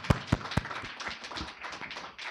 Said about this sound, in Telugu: గట్టి చప్పట్లు కొట్టి దేవుని స్తుతిద్దాం.